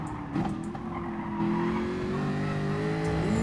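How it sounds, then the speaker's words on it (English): A race car in the GT Sport driving game brakes hard, with a sustained engine drone and a squealing tire tone that rises and holds, loud and continuous. "Ooh, hard brake."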